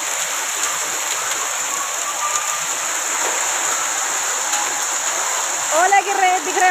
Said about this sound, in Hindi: ओलों की बरसात हो रही है।